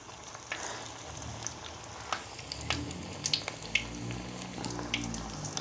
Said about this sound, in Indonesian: minyaknya udah panas ya teman-teman. Goreng, terus digoreng seperti ini.